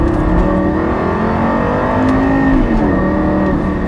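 A Lamborghini Gallardo LP560-4 engine pulls steadily at about 3000 RPM, a loud continuous drone heard from inside the car with no talking.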